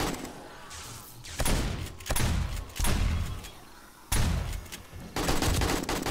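A shotgun turret in 7 Days to Die blasts away at a zombie horde, sharp heavy shots at irregular intervals roughly every second, each with a short decaying tail, fairly close and with no talking.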